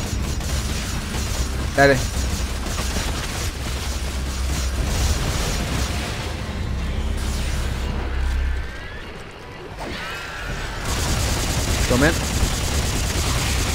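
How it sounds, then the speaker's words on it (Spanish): Sci-fi gunfire from the co-op video game Dead Space 3, with players shooting at creatures; bursts of shots and mechanical weapon noises sound amid game effects as players talk briefly. "Vos mover la piedra mientras yo disparo los bichos"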